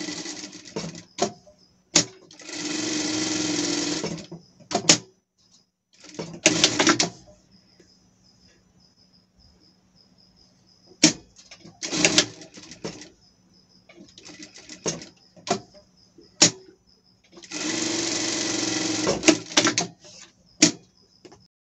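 A sewing machine stitches a seam on a small pet dress in short whirring bursts of a second or two, separated by quiet pauses with clicks and fabric handling.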